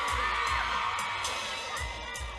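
A crowd at a live dancehall concert performance in Belize screams and cheers, dense and sustained, with occasional louder whoops and low thumps from the sound system beneath.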